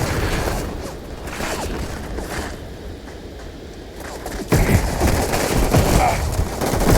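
Big Bang shotgun in the space game Starfield firing repeatedly, loud booming blasts with a sharp rise in intensity after the midpoint, alone without talk.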